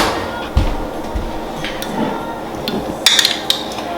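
A metal spoon clinks against a container of homemade hand sanitizer gel, a few sharp taps clustered near the end after a dull knock, close and fairly loud with no talk.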